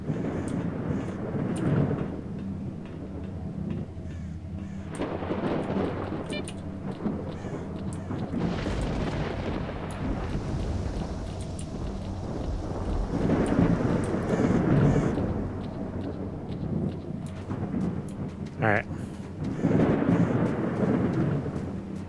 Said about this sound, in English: Man, the storm's been kicking off for like a long time now.